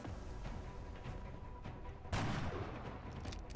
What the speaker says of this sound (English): Now I can obviously snipe that one down.